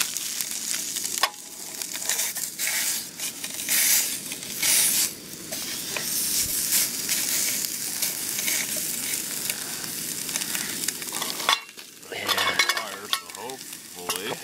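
Sausage patties sizzle loudly in a pan on a camping stove during a breakfast hike, a steady crackling fry that briefly drops out and then resumes, heard up close with no talking.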